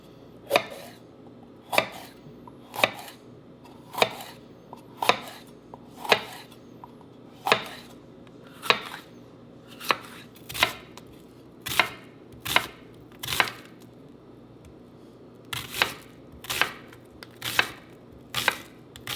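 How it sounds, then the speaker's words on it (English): A knife chops and slices food on a cutting board during meal prep, with about twenty sharp, evenly spaced cuts in a steady rhythm, close and clear with no talking. "And then I'm going to slice these bad boys up."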